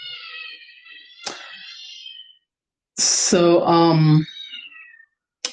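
A house cat meows in a drawn-out, wavering call near the start, then gives a louder, strained, warbling meow a moment later, with brief speech between the two calls.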